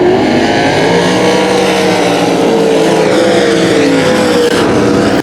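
Race cars roar around the 281 Speedway oval on the final lap, a loud, steady blend of engines throughout with no pause or break.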